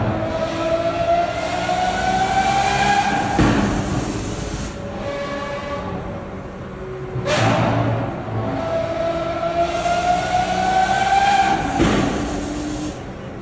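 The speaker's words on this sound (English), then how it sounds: "But here's the sound of a Lambo." A Lamborghini Aventador sports car engine roars loudly and close, with two long revving pulls that climb steadily in pitch, each broken by sharp bursts, with no talking.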